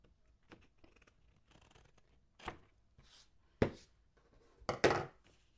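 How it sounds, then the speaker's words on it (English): Several sharp scissor snips cutting through shirt fabric, a few soft clicks first and then louder distinct cuts near the end, close up with no talking. "I'm just gonna use my scissors to cut this"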